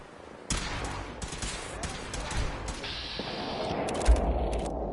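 Gunfire rattles in a Fallout 4 combat scene. A sharp crack is followed by a dense stream of overlapping shots and mechanical clatter at moderate loudness, with some background activity underneath.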